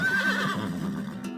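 A person imitates a horse for a radio play, giving a single close, wavering whinny that trails off into quieter breathy rustle.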